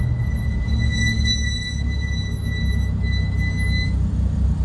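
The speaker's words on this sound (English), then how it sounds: "It looks nice until you hear the brakes, right?" Steel brakes on a twin-turbo Audi R8 give off a high, thin, sustained metallic squeal, steady and piercing for about four seconds over a loud low rumble of engine and road noise.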